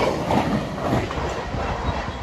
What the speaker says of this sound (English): This is a Bristol to Edinburgh service, a Voyager that should have started at Plymouth.